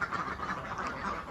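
A flock of laying ducks quacks steadily at close range, with overlapping calls forming a dense, busy chorus and no talking.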